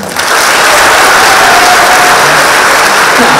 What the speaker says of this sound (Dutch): warm applaus voor Marjan